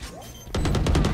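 A burst of gunfire in a tactical shooter game: a sharp shot followed by rapid repeated cracks, loud and close, after a brief quieter lead-in.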